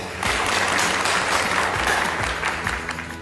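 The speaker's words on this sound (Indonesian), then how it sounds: "tepuk tangannya yang meriah" Lively audience applause at an MC school event in Surabaya, a dense steady clatter of many hands held at an even level from start to finish, with no talk over it.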